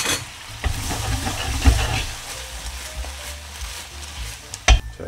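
Eggplant stir-fried in a pan with seasoning sauce and sliced vegetables, a loud close sizzle broken by scraping stirs and a couple of sharp clanks of the utensil against the pan.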